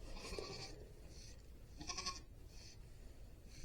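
Goats on a pasture bleat repeatedly: several wavering calls at close range spread over a few seconds, separated by short gaps, over a steady outdoor background hum.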